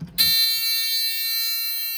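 A Safe House 49-470 fire alarm panel sounds its trouble buzzer, a sudden, steady, shrill electronic tone that starts after a brief handling noise and continues unbroken.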